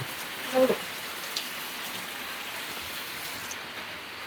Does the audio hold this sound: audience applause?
no